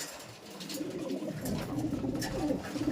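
Pet pigeons cooing softly in a loft, low throaty coos rising and falling over a noisy background, fairly faint with no talk.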